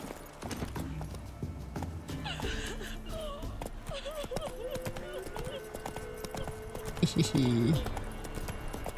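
Roach the horse in The Witcher 3 game, rhythmic hoofbeats clip-clopping steadily through the scene, with a whinny near the end, while a player talks over the game audio.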